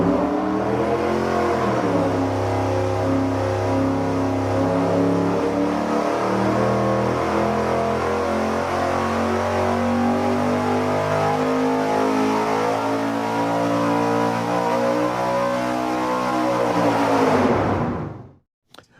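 Tuned sequential fuel injection engine revving hard on a dyno, a loud sustained pull with steadily climbing pitch for most of the run, then cutting off abruptly near the end.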